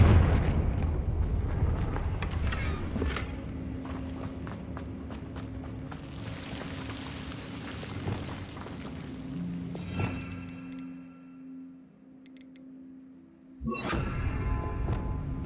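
Blasting-spell explosions from the Confringo curse in Hogwarts Legacy: heavy booms and whooshes under a dense, rumbling din, with a brief lull before a loud burst returns near the end.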